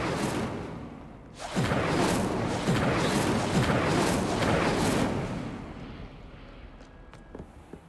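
A burst of magical fire from the Incendio spell in Hogwarts Legacy: a sudden loud whooshing flare that roars steadily for a few seconds, then fades into quieter crackles and small ticks.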